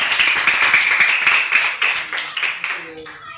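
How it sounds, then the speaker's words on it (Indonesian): Children in a primary school classroom clap together in a brisk, slightly ragged rhythm of quick claps for a few seconds, fading as a voice begins speaking near the end. "Tepuk tangan semuanya"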